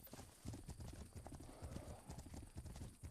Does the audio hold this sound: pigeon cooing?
no